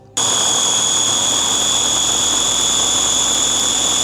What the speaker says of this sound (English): Now I'm going to grind.